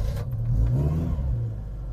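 A van's engine is held at a steady raised idle with light throttle to stop it stalling after repeated cutouts, a continuous low rumbling drone with a slight swell in revs partway through, close and loud with no talk.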